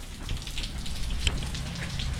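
Heavy typhoon rain pours steadily on a surface, a dense continuous hiss of drops with one sharper knock, heard close and without talk.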